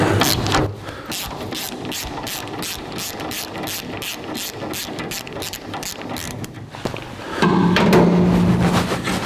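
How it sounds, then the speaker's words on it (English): A ratchet works dashboard bolts loose on a 1982 Jeep CJ7, with rapid, evenly spaced clicking strokes up close, then a brief louder, humming stretch near the end. "Let's start taking these dash screws out. We're down to one bolt here."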